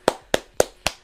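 One person claps their hands four times at an even, unhurried pace. The claps are close, sharp and distinct, with brief silence between each.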